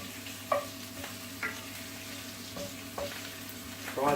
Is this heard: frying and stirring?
yes